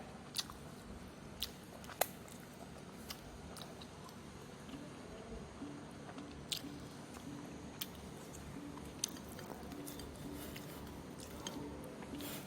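Someone eats rice with durian and chili dip, making soft close chewing and squishy mouth sounds with a few sharp clicks, all quiet and intimate.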